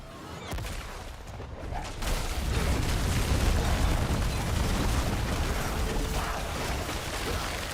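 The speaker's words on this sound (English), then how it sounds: "Yeah, look at all the explosions." Explosions in the video game Diablo IV, a dense burst of overlapping pops and booms that swells into a sustained roaring rumble and stays loud throughout.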